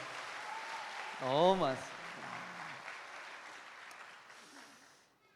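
At a Korean church revival meeting, a congregation's applause for the young people rolls as a soft, broad patter. A voice exclaims over it early on, and the clapping gradually fades to silence.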